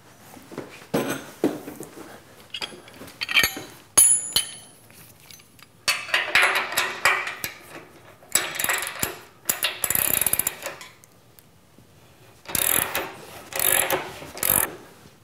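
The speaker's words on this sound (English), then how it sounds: "Let me undo some bolts and show you what the issue is." Bolts are loosened on a pull-up bar with a ratchet, giving bursts of metallic clicking and ratcheting separated by short pauses, close and moderately loud.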